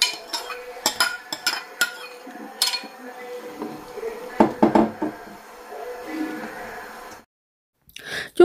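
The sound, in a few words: adding ghee to nihari in a cooking pot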